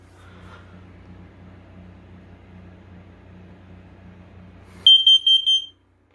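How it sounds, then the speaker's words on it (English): A First Alert smoke and CO alarm goes off during a test. A run of four piercing beeps sounds over a low, steady background hum, then cuts to silence. "Oh, one of them is alarming in CO."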